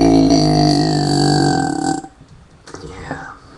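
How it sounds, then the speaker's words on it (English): A loud, close, drawn-out burp lasting about two seconds, followed by quieter breathy throat sounds. "I'm just gonna stay on here for a few minutes and just burp."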